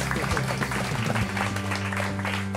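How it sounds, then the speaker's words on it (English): A studio audience on a television show claps and cheers in a dense burst of applause, loud and close, with a voice talking over it. "Let's give them a round of applause, please, ladies and gentlemen."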